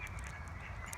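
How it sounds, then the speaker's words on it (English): Geese honking and mallard ducks quacking outdoors on a Sunday morning nature walk, faint and somewhat distant, with short calls repeating over a steady low background hum. "Geese are shouting."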